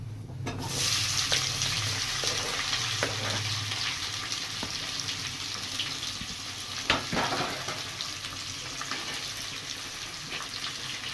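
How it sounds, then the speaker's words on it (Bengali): Four sliced onions hit hot oil that was tempered with bay leaf for an egg biryani, setting off a loud, steady, close sizzle that starts abruptly and keeps on, with a few faint clinks. "তেল থেকে ফোড়নের সুন্দর গন্ধ বেরোলে আমি 4টে পেঁয়াজকে স্লাইস করে রেখেছিলাম, সেটা দিয়ে দিলাম।"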